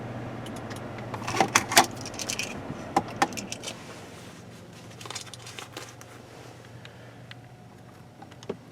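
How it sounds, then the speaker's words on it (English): Keys jangle with a few bright metallic clinks after the engine of a 2018 VW Atlas SEL Premium shuts off, clustered near the start and then growing sparser, with faint shuffling handling noises in a quiet cabin. "Let's go ahead and shut the car down, grab the keys"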